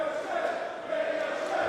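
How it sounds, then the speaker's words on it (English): Arena crowd at a live pro wrestling World Cup show in Manchester roaring in support of wrestler Ricochet, a steady, dense wash of cheering and chanting that holds evenly throughout with no single voice standing out. "And listen again, Bradshaw, the crowd behind Ricochet."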